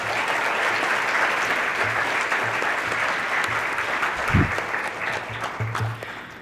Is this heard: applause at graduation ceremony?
yes